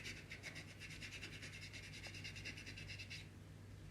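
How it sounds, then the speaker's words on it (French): A nail file rasps quickly back and forth across a false nail tip glued on with nail glue, a steady run of close, quiet strokes lasting about three seconds before stopping, with a low hum underneath. "Donc je lime encore."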